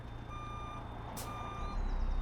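In American Truck Simulator, a Kenworth W900 truck reverses with a steady series of high electronic beeps over a low diesel rumble, with a brief hiss of air partway through.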